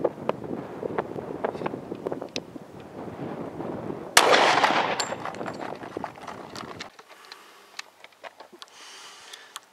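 A .45 ACP Blazer round is fired outdoors into ballistic gelatin: one sharp, loud report midway through, surrounded by gusty wind rumble and scattered faint clicks.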